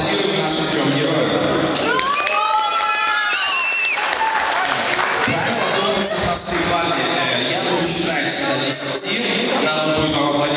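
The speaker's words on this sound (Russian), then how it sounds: "давайте поаплодируем нашим трем героям" An audience in a youth centre applauds three contestants, a dense burst of clapping and cheers with a host's voice rising over it, the crowd noise continuing steadily to the end.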